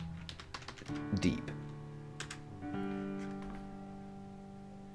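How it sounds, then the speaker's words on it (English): A computer keyboard typed briefly during a creepy puzzle game. The short burst of key clicks sits under and between quiet speech, with a humming tonal background. "let's type the word"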